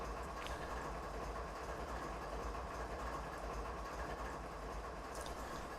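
Train rolling in Train Simulator 2019 on a Canadian mountain pass: a steady low rumble of wagons and engine, with faint metallic squeals.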